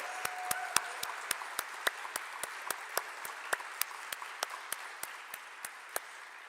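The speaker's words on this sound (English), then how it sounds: "give all of our student presenters one more round of applause" An event audience applauds student presenters. The clapping is sparse and evenly spaced, quiet and somewhat distant, with sharp claps repeating steadily over a faint room background.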